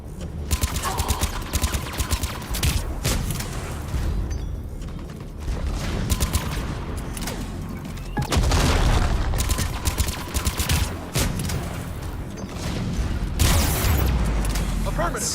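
Heavy cannon fire in the Mass Effect 3 video game booms amid continuous loud combat noise, with mechanical clanks and rattling, repeated blasts and a dense battle din throughout.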